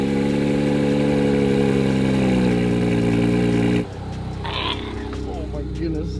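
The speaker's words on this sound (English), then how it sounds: "Cold start." A Porsche GT4 RS engine on a cold start roars loudly at high idle, then drops abruptly to a lower, steadier rumble.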